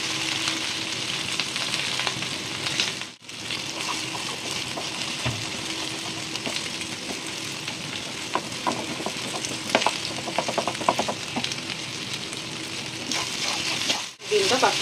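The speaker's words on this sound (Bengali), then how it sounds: "পাস্তাগুলো সাইড করে এর মধ্যেই ডিমটা ফেটিয়ে দিয়ে দিলাম।" Beaten egg frying in a pan pushed beside pasta, a steady close sizzle with stirring scrapes throughout, two brief dips in the sound, and faint voices under it.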